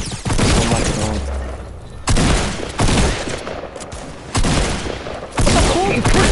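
Video game gunfire rattles out in loud, dense bursts that start and stop roughly every one to two seconds, filling the whole clip with sharp automatic fire.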